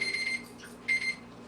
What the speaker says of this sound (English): Let me go turn this alarm off real quick.